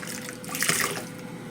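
Hot dishwater being scooped up beside a stove while fish fries, a brief close splash and slosh of water with a trickling, liquid sound and no voices.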